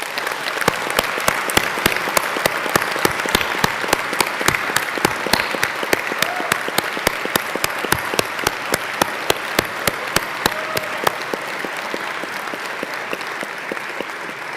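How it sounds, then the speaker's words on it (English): Graduates at a Swinburne graduation ceremony give a long, loud round of applause in a large hall, dense overlapping claps holding steady for many seconds before easing slightly. "we together are going to applaud them for all of the things that they have done for you"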